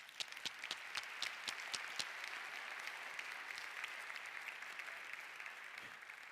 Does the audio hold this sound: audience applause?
yes